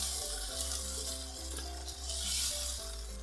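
Balti chicken being stirred in a pan after a glass of water goes in, with steady sizzling and frying plus repeated soft scrapes of the spoon close by, no talking.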